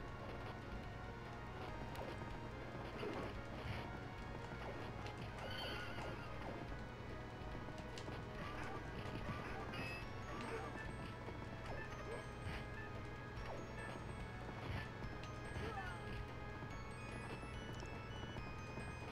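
Steady clip-clop of video game horse hooves with occasional neighing over a constant background hum and layered ambient sounds.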